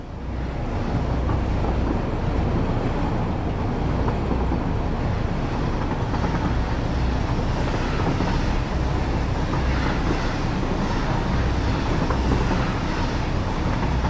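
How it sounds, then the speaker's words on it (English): A train running on rails in the video game Satisfactory, giving a steady, loud rolling rumble and rattle of wagons that carries on unbroken for the whole stretch, alone without speech. "This train is cranking."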